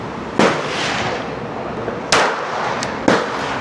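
Pistol shots ring out at an outdoor range, three sharp cracks spaced unevenly over a few seconds, each with a short echoing tail over a steady background hiss, with no talk.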